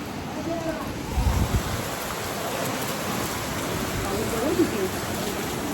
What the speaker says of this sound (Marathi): पाऊस थांबतच नाही आज